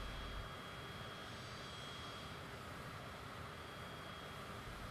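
Steady broadband jet engine rumble and whine of an airliner taxiing on the ground in Microsoft Flight Simulator on Xbox, continuous and fairly loud with no talk over it.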